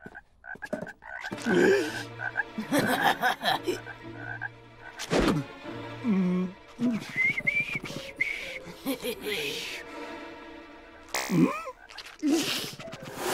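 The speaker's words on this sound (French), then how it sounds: "tu choisis une grenouille pour la dissection?" Cartoon frogs croak in a series of loud, repeated tonal croaks and warbles, interspersed with whistle-like squeaks and brief bursts, close and prominent with no speech over them.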